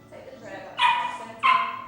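Puppies at a puppy yoga class let out two sharp, close yips a moment apart, over a soft background of speech.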